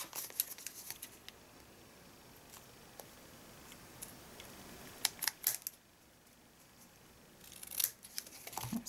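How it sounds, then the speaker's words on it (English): Scissors snip through cardstock in a few quick cuts, crisp clicks clustered in short groups between quiet stretches, close by. "with your scissors you're going to chop that off"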